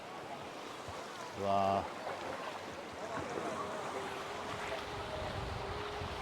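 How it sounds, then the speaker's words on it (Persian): Wind and sea-wave noise around an Intex Seahawk 3 inflatable boat on the water, a continuous rushing hiss with buffeting, briefly interrupted by a short tonal sound and a voice. "الان قایق ما روی آبه"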